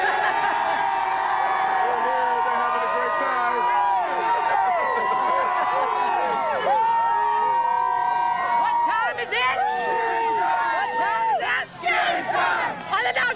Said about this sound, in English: As you can see, the crowd is not going anywhere.